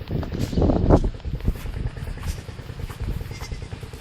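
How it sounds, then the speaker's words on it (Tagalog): Several goats bleat near a river, loud calls standing out early over steady outdoor background noise, with quieter bleats and rustling continuing after. "Ito ang aking mga kambing."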